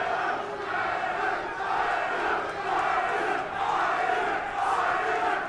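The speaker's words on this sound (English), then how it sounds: "you can hear them half chanting for Taylor, half chanting for Judge" A split fight crowd chants for two fighters, Taylor and Judge, during a grappling exchange, a steady loud roar with rising and falling chant waves throughout.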